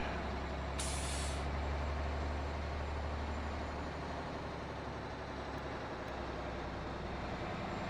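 Heavy highway truck traffic in the American Truck Simulator game: a loud, steady engine and road rumble throughout, with a sharp air-brake hiss early on, and no talking.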